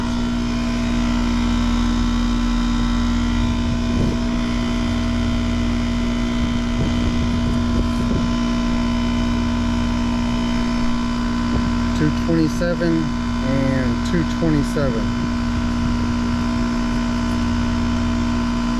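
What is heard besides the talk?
failing HVAC compressor running without pressure differential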